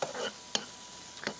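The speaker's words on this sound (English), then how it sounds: "after this is sauteed a bit" Pork chop, a Heritage Farms Cheshire cut, sauteing in a pan on an electric stove: a faint, steady sizzle with a couple of brief utensil clicks, quiet and close.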